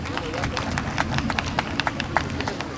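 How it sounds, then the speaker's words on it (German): Outdoor audience clapping for a choir at an open-air church service, scattered and fairly soft with distinct individual claps, while a voice speaks over it. "Lass uns noch mal einen Applaus für den Chor geben."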